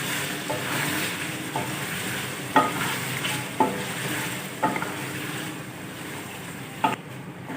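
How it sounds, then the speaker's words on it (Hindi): Whole spices (nutmeg, mace, star anise and coriander seeds) fry in oil in a pot for beef biryani, with a constant near sizzle and sharp stirring scrapes recurring about once a second. "सारे मसालों को अच्छी तरह फ्राई कर लेंगे।"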